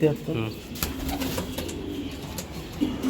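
Racing pigeons at a sale cooing in low repeated calls, moderately close, mixed with background voices of people talking.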